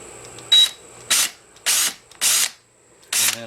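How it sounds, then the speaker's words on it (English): A power drill bores a pilot hole into a door stud while a door knob and deadbolt are being replaced, firing in five short, loud bursts separated by brief pauses, with no talking. "you want to make sure you at least get a pilot hole into the stud so you don't split it"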